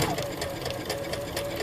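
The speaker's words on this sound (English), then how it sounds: "we'll start sewing while aligning the edge with this line" A sewing machine running a straight stitch at a steady fast hum, close and continuous throughout the short stretch.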